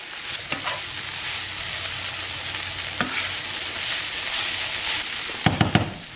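Half a packet of taco seasoning stirred into meat frying in a pan, a steady bright sizzle running throughout with a few sharper scrapes and clinks of the spoon near the start, middle and end.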